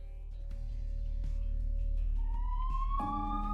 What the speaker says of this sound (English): An ambulance took me to the hospital.